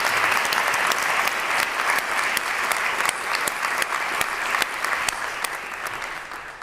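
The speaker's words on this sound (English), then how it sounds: "give our panelists a great applause" Sustained audience applause for panelists at a digital summit, dense and loud clapping from a large crowd, steady from start to finish and fading slightly at the end.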